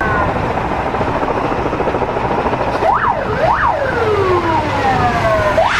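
Emergency sirens wail continuously over a burning concert hall during the Moscow attack, with rising and falling sweeps layered over a steady low rumble of helicopters overhead; no talking.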